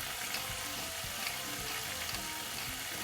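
Beef browning in a hot pan, a steady, close, continuous sizzle and crackle of frying meat with no talking.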